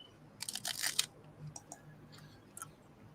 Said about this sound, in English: While I'm crunching tacos.